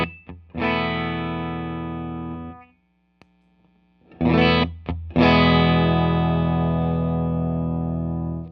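Electric guitar through a clean boost pedal set at unity gain: two long sustained chords ring out and decay, separated by a short silence, each opened by quick muted picks, loud and close.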